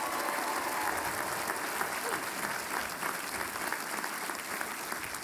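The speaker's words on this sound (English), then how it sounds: "What about a nice round of applause for them?" A university commencement crowd applauds the graduates' parents and families, a steady, dense roar of clapping from a large audience with a faint murmur beneath, unbroken from start to finish.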